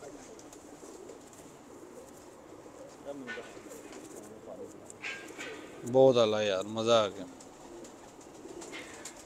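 Pigeons coo softly in a loft of show birds, low rolling calls around a louder close burst of cooing, with a voice talking briefly over them.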